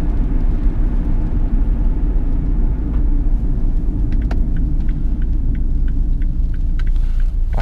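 Steady, loud road rumble from inside a 2010 Chevrolet Captiva 2.0 VCDi diesel LS being driven, a constant low engine and tyre drone with a few light ticks near the end and no talking.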